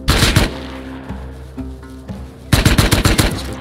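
Automatic gunfire in the video game Rust, with a loud rapid burst, a quieter stretch of low hum and scattered distant shots, then another loud rapid burst, and no talking.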